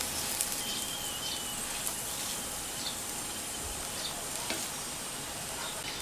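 Paratha frying in oil and ghee on a pan, a continuous even sizzle with small crackles and pops, steady and close, no voices.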